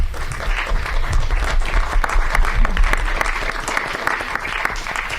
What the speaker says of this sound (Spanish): ¿Pueden hacer un aplauso, no es cierto,